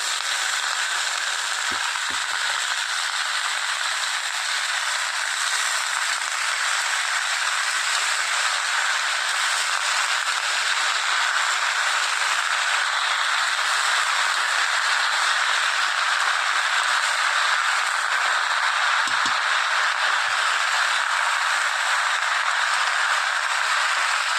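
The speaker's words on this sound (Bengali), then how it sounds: "এবার যে ধুয়ে রাখা সবজিগুলো সেগুলো সব দিয়ে দেবে এর মধ্যে" Washed spinach and vegetables hit a frying pan of onions, setting off a loud, steady hiss and sizzle that runs unbroken throughout, with faint clatter of the pan.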